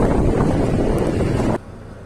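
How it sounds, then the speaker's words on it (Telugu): Strong wind gusts roar and buffet the microphone outdoors on a morning after rain, loud and continuous, then cut off abruptly to a quieter rumble. "ఇది గాలి బాగా వేస్తుందండి"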